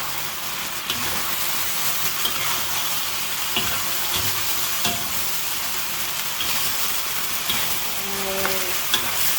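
Chicken pieces fry in soy sauce over a high flame, giving a steady close sizzle with occasional stirring scrapes and clinks in the pan, and no talk.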